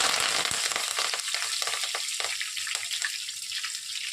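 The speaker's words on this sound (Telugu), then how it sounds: "ఆయిల్ బాగా హీట్ ఎక్కిన తర్వాత ఇక్కడ నేను కొన్ని పోపు గింజలను వేసుకుంటున్నాను" Mustard seeds and curry leaves spit and crackle in hot oil for an Andhra bottle gourd curry, a loud steady sizzle that eases slightly as it goes on.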